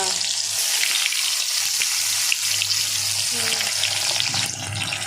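Loud, steady crackling sizzle of pointed gourd pieces frying in hot oil in a kadai, heard up close with a constant hiss and occasional pops, while someone talks softly underneath.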